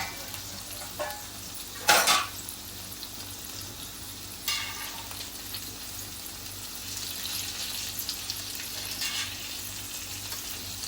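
Stuffed okra cooking in a pan hisses with a low, continuous sizzle while being flipped, marked by a couple of sharp scraping clatters early on and lighter shuffling touches later, with no speech.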